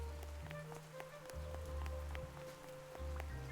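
Rain falling in the video game Duck Detective, a continuous patter of drops on surfaces with soft low musical tones underneath and no speech.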